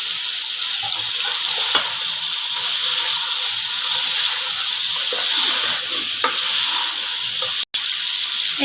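Cut potatoes sizzle loudly in a pan with frying chicken, a steady close hiss of hot oil with a few faint stirring scrapes.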